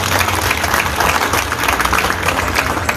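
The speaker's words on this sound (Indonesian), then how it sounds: "Tepuk untuk Kabupaten Samosir." Crowd applause for Samosir Regency at a police chief's community gathering in Samosir, North Sumatra: dense, steady clapping from many hands, loud and sustained throughout with no pause.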